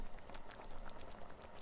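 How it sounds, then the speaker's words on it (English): Berries, grape juice and maple syrup with water simmering in a saucepan on low heat, a soft steady bubbling and popping, quiet and close, with no voices. "Let come to a simmer"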